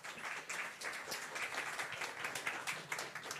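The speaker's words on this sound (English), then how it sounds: "let's give a round of applause to Jamie" Meetup audience applauding a speaker, a modest room's worth of hands clapping in a quick, even patter, fairly soft and steady throughout.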